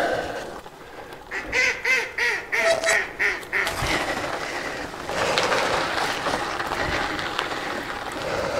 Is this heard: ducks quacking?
yes